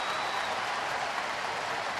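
Phillies home crowd at a baseball game against Baltimore, steady broad applause and cheering rising in the ninth inning, a dense continuous roar with no break.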